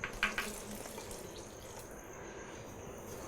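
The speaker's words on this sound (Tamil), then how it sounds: "இப்போ தண்ணி ஊற்றணும்." Water is poured into a pan while a Tamil fish curry with coconut is being cooked, a few quick splashes at the start giving way to a soft, steady trickle that fades into quiet kitchen background.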